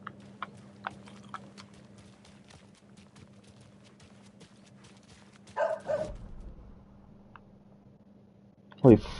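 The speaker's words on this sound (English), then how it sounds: "that dog scared me" A dog barks in the PS5 horror game Alan Wake 2, a sudden loud burst near the end, after a quieter stretch of steady hum and scattered game sounds, with another sharp noise around the middle.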